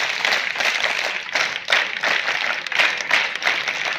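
Many schoolchildren clap together at a school event honouring a visiting block official, a dense, steady burst of hand claps filling the space for several seconds.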